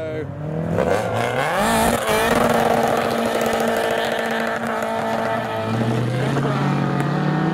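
A Ford Escort RS2000X rally car engine revs hard and rises in pitch as it approaches and passes, then a second engine note climbs behind it, with a voice talking over.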